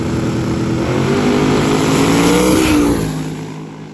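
A turbo Camaro makes a drag racing pass, its engine roaring loud and steady as the pitch climbs, then fading away as the car pulls off into the distance.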